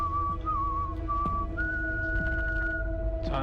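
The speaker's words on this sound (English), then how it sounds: "What's with bad guys and whistling?" A single person whistles a wavering, melodic tune up close, with a steady low hum beneath and a few soft clicks.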